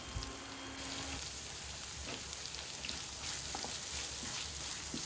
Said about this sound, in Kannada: ಈರುಳ್ಳಿ ಹಾಕ್ಬಿಟ್ಟು ಸ್ವಲ್ಪ ಚೆನ್ನಾಗಿ ಫ್ರೈ ಮಾಡಬೇಕು.